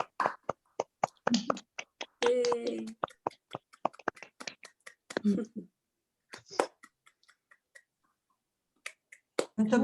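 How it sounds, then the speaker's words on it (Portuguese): Online meeting audience with cameras on applauding: scattered, uneven claps and snaps from individual participants, sparse and intermittent with gaps of silence, mixed with brief bits of talking. "A gente abre as câmeras e a gente faz uma salva de palmas para a Bruna."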